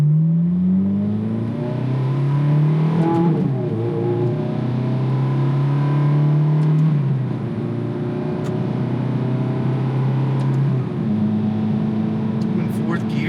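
A 2007 Ferrari F430 in paddle-shift mode accelerates hard, its pitch climbing through several gear changes in repeated rising sweeps, loud and close.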